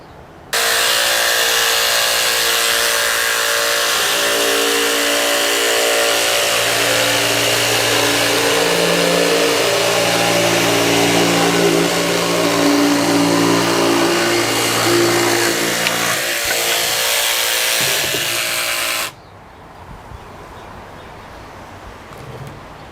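A Makita 40V cordless jigsaw saws through wood in one loud, continuous buzzing run lasting nearly twenty seconds, then cuts off abruptly, leaving faint background noise.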